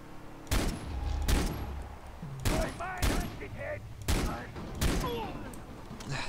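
Gunfire in the video game Far Cry 3: several sharp shots in irregular bursts over a low background hum, with brief game sound effects between the shots.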